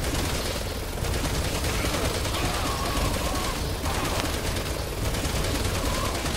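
Rapid bursts of automatic gunfire from the video game Resident Evil 6, loud and continuous, with brief gaps between volleys over dense in-game combat noise.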